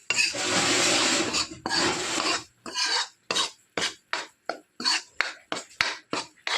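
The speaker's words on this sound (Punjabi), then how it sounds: "ਜਦ ਤੱਕ ਬੇਸਨ ਘਿਓ ਨਹੀਂ ਛੱਡਦਾ ਤਦ ਤੱਕ ਭੁੰਨਣਾ ਹੈ" Besan (gram flour) roasting in ghee in a pan, stirred with a spoon: first long continuous scraping, then a quick run of about a dozen short, rhythmic rasping strokes, close and clear.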